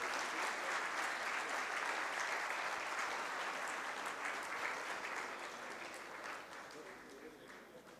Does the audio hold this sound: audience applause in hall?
yes